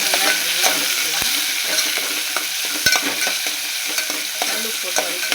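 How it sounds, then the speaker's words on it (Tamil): Onions, shallots, green chillies and curry leaves are sautéed with salt for a kodi kavalai fish curry. A close, steady sizzle comes with repeated scraping and clinking stirs, and no one talks. "நல்லா வதக்கலாம்."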